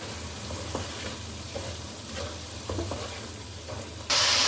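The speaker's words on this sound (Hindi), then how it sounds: "अब प्याज को इसमें भून लें।" Steady sizzling and crackling of onion and minced meat (keema) frying in a pan, with occasional stirring scrapes and a sudden burst of louder hiss near the end.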